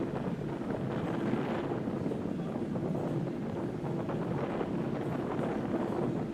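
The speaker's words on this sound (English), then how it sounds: "Really windy, so I got to keep the volume down a little bit here" Strong outdoor wind buffets the microphone in a steady, loud rumbling roar at a busy dog-training setting, with no talk.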